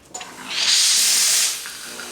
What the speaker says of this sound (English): My iron is a Rowan Tough Perfect Steam.